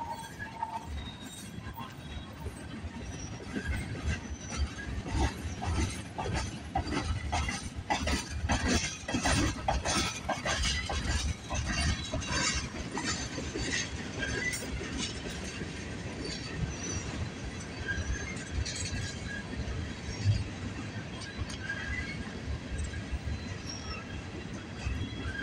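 A CN freight train hauling coil cars and tankers rolls past Brantford VIA Station and slows down, with steady wheel rumble, repeated clanks and clicks over the rail joints, and occasional faint squeals.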